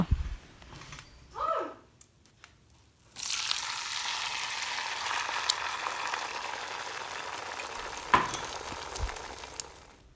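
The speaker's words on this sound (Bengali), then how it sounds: "তো এই ডিম ভাজা করছি এখন" A few quiet clinks and knocks, then a loud, steady sizzle of an egg frying in a hot pan, with a sharp clatter near the end.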